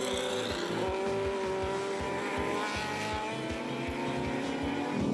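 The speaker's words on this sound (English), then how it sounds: "Jenkins is now on the power and beginning to pull a bit of a gap again" Historic race cars, including a Chevron, a Porsche and a Cobra, racing on a circuit, with engines rising and falling in pitch as they pass and repeated rhythmic engine pulses.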